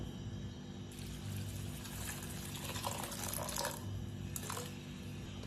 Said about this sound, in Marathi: आता यामध्ये बुडील इतपत पाणी ओतायचं.